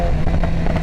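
A BMW S1000RR fitted with a Vandemon full titanium exhaust rumbles loudly and close, a deep, steady engine note that holds for under a second.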